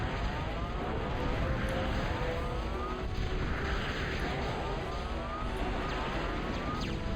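Aircraft flying in the real-time strategy game Total Annihilation, a steady droning engine wash with siren-like tonal sweeps, loud and continuous throughout, with no talking.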